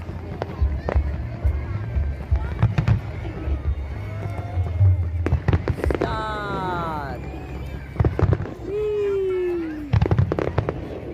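Fireworks launched from a barge at the Pattaya International Fireworks Festival crackle and pop in sharp bursts over a noisy crowd, with voices and whistling descending tones mixed in the din.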